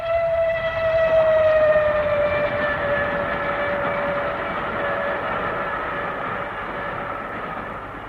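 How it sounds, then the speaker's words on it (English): A train passes beneath a window in a radio play, a sustained whistle-like tone over a steady rumble that slowly fades across the clip. "Bad enough to have the trains banging under one's window all night long."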